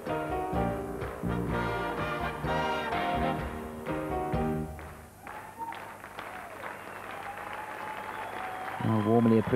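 Audience applause at the Aarhus 1994 Open Latin dance competition, steady clapping from a crowd throughout, mixed with music and an announcer speaking over it.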